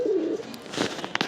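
Pigeons at a loft give a short, soft low coo near the start, followed by faint rustling and a few light scratchy taps, all fairly close and with no talking.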